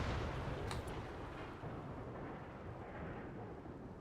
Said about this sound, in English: it's just a rainy thunderstorm